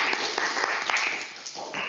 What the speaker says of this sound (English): So I think maybe a round of applause.